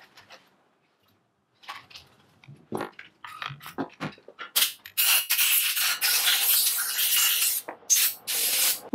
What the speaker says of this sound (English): I just dip the rag into the methylated spirits and then just rub it all over everything